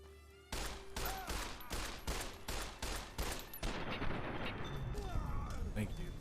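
Rapid, regular bursts of 10mm pistol fire in Fallout: New Vegas, about eight shots in quick succession, followed by a wash of dense game noise and action sounds.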